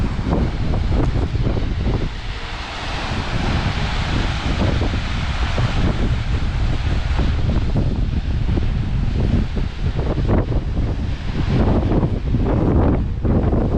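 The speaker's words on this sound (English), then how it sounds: "It's very bloody windy." Strong, gusty wind buffets the microphone continuously at Ebor Falls, a loud low roar with rustling over it and no voices.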